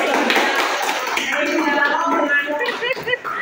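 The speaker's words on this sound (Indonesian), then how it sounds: "Tepuk tangan untuk Bu Yani." An audience claps together at a community gathering, a dense patter of hands that carries on for several seconds while a host's voice talks over it.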